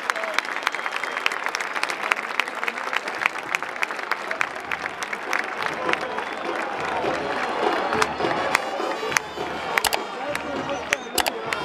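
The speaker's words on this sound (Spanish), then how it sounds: "¡Se aplaude, se aplaude! ¡Se aplaude al Tolima!" A stadium crowd at a Deportes Tolima football match applauds the team, dense sharp clapping spread across the stands with cheers and voices mixed in, loud and continuous throughout.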